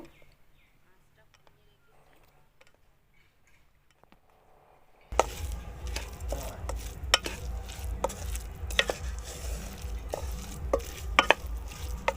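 A sweet coconut-style filling with crushed cardamom frying on low heat: after a quiet start, steady soft sizzling begins with repeated spoon scrapes and taps against the pan.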